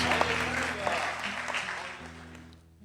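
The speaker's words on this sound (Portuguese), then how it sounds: "Bem forte as palmas para Jesus." A church congregation applauds in a dense, continuous wash of clapping that carries over a low, steady hum and fades away toward the end.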